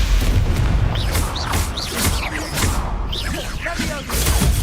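Spell combat in Hogwarts Legacy, with Stupefy casts firing as a rapid series of booming impacts, whooshes and zipping magical sweeps, loud and overlapping without a break.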